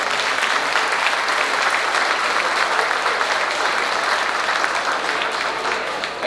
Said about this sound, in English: Please join me in giving all of them a well-deserved round of applause.